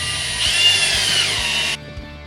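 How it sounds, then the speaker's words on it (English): A power tool cuts through black chain in a workshop, a loud close high-pitched whine and grind lasting under two seconds before stopping abruptly, followed by faint clinks. "cut some black chain for the LEDs to hang from"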